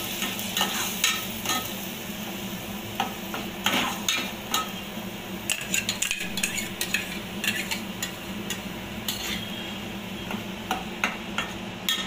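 Ground masala paste sautéing in hot oil for a surmai fish curry, a steady close sizzle with frequent sharp scrapes and clinks of a spoon stirring against the pan, no voices.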